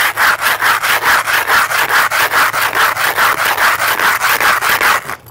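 A metal food can is scraped back and forth on concrete to break its seal, producing a loud, close, fast rhythmic rasping of about twenty even strokes with no talking.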